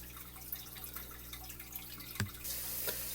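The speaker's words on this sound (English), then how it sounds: "I'm going to add water to that tank." Water pours into a fish tank during a water change for mollies and platies, a steady soft trickle with a few louder splashes and drips, close by and alone.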